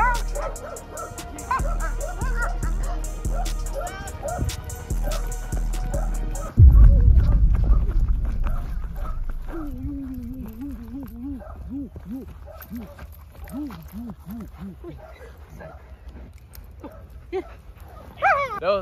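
A dog yips, barks and then whimpers in thin, wavering cries. At first it is loud and close beside a clattering scuffle and people talking, and the sounds gradually grow softer.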